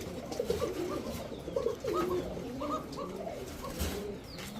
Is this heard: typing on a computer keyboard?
no